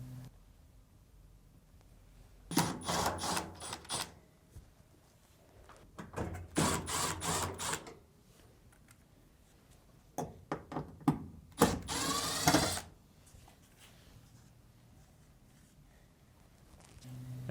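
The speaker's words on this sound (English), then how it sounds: "remove the 3 screws on the lint duct" A power screwdriver removes three screws from a dryer lint duct, giving three separate bursts of whirring buzz with short pauses and small clicks between them, close and fairly quiet, no talking.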